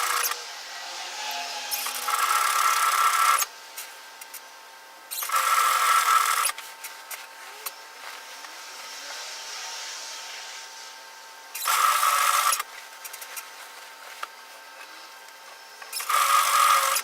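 A sewing machine stitches the split hem of a relaxed pullover hoodie in four short, even runs, with quiet pauses between them for pivoting.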